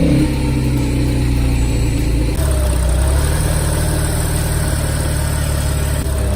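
A Porsche with a manual stick shift, shown at a Porsche concours show, idles steadily with a deep low rumble after starting, loud and close for several seconds with no talk.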